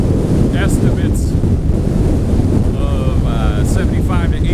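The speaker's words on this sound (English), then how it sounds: "the wind up here right now is absolutely no joke" Strong mountain wind on an open summit roars and buffets the microphone constantly at high volume, with faint voices or calls breaking through now and then.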